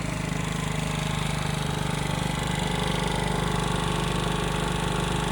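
A 2025 Wolf RX-50 50cc moped engine sits at idle, putting out a steady, buzzing, rapidly pulsing drone at constant level throughout, with no voices.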